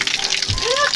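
Spring water at a rocky river splashes and pours as someone washes their face with it, a brief close wet gush with voices talking over it.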